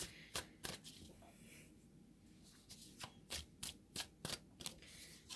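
Tarot cards are shuffled by hand in a quiet room, giving a series of crisp riffling bursts spaced irregularly, close and fairly soft, with no voices.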